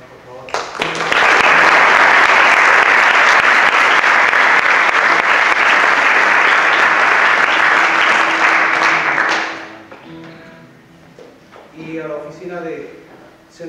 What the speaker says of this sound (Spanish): decer infinitamente al maestro Oscar Zamora, para quien pido fuertes aplausos, por favor.